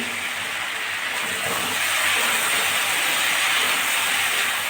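Chopped tomatoes hit a pan of fried okra and potatoes, setting off a loud, steady hiss of frying that swells after the first couple of seconds and holds without talk.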